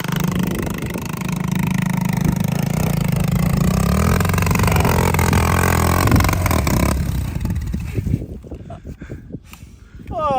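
A Kawasaki KX100 pit bike is ridden hard, its small engine buzzing and revving loudly and steadily for several seconds before it backs off and the sound drops away into fainter clatter near the end.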